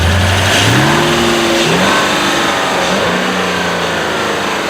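Volkswagen Touareg with a 4.2 litre V8 accelerating hard, loud and close, its engine note climbing through several rising gear sweeps over a steady road roar.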